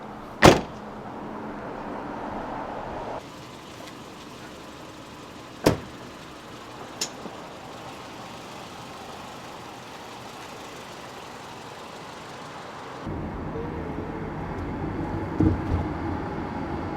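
A car on the move, its engine and road noise a steady low hum at close range, with a door-like thump near the start and a few brief clicks and knocks inside the cabin.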